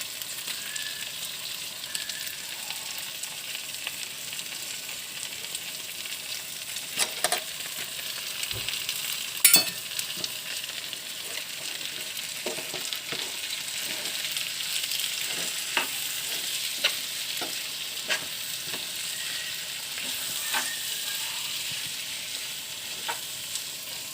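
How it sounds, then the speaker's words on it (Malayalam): Biryani paste for chicken biryani sizzles steadily in a hot pan while a spoon stirs it, with occasional scrapes and taps against the metal cutting through the constant frying hiss; no voices. "ബിരിയാണി പേസ്റ്റൊക്കെ ഇട്ട് ഇളക്കി റെഡിയാക്കി"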